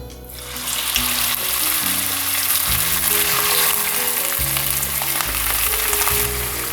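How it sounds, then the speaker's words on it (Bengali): Lamb pieces fry in oil with toasted garam masala, giving a loud, continuous sizzle that starts abruptly and holds steady for several seconds, with faint stirring sounds beneath. "মাংসটাকে ভেজে নিতে হবে প্রথমে"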